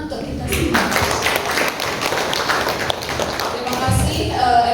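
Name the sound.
applause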